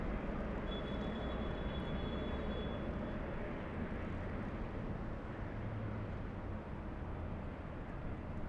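An airplane taking off from runway 24 left makes a loud, continuous, deep rumbling roar that holds steady throughout, with a faint high whine above it.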